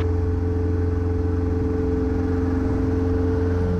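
A light aircraft engine runs at full throttle during takeoff, giving a loud, steady droning hum with a pulsing rumble and constant pitch, and no speech over it.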